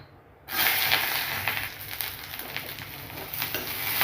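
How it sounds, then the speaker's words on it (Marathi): Ginger and garlic hit hot oil in a pan for misal masala and set off a sudden loud sizzle. The close frying hiss keeps crackling steadily, with faint stirring. "आता आपण ही अदरक लसूण ना ते पण गरम करून घेऊयात"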